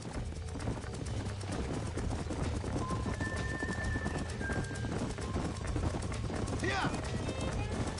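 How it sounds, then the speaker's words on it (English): Horse hooves clip-clopping in the video game Red Dead Redemption, a steady rhythmic trot running throughout under game music and ambience, with one short spoken word. "These are fine horses."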